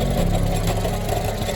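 Small minibike engine idling steadily after a pull start, a loud, close, continuous rumble with no pauses.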